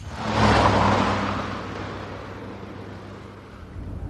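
A car in a road chase sweeps past, loud at first with a roaring whoosh that fades steadily as it recedes into the distance, engine noise lingering faintly at the end.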